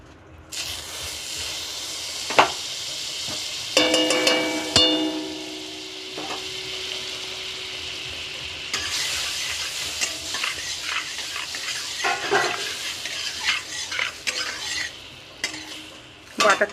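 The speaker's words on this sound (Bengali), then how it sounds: "কড়াইটা গরম হয়ে গেছে, আমি কিছুটা পরিমাণ বাটার দিয়ে দেবো পনিরটাকে ভাজার জন্য" Butter heats and sizzles in a hot wok ready for frying paneer, with a steady hiss broken by metal clinks and stirring scrapes, close and fairly loud, with no talking.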